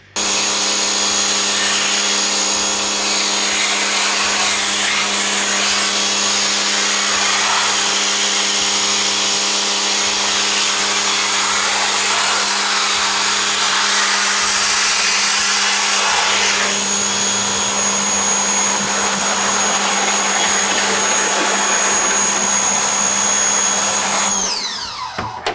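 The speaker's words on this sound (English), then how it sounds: "I'm gonna turn this around, hit it with the pressure washer" A pressure washer sprays a screen, producing a loud, steady, continuous hiss with a constant mechanical whine underneath that holds for about twenty-five seconds before cutting off abruptly.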